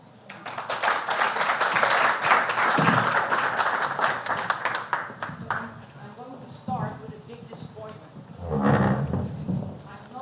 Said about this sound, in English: A round of applause for Mary.